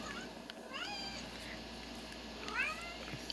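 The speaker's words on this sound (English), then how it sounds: "That would be DJ, the new cat. He's coming up to see the water." Cat meowing indoors, two short rising calls about two seconds apart, fairly faint over steady room noise with no talking.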